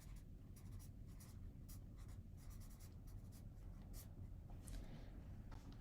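Handwriting notes with a pen on paper, quiet close scratching strokes in irregular short bursts with no talking.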